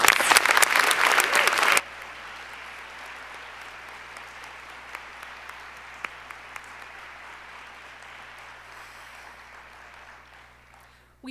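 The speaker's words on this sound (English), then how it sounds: "Please give all these folks a big round of applause." Conference opening night audience claps loudly for sponsors, but the applause cuts off abruptly after about two seconds, leaving quiet room tone with a few scattered faint claps.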